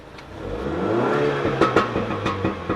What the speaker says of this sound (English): So this is the stock sound of the car